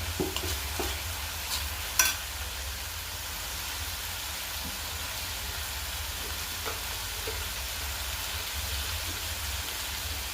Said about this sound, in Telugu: ఒకసారి కలబెట్టి కలబెట్టి అల్లం వెల్లిపాయ చూడండి